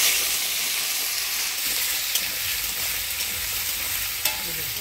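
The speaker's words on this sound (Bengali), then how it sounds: "এবার কাটে রাখা মিষ্টি কুমড়া দিয়ে দেবো" Cut sweet pumpkin sizzles loudly in hot oil seasoned with black cumin and dried chili, a steady bright frying hiss with occasional scrape of stirring.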